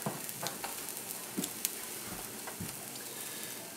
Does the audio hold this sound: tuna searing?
yes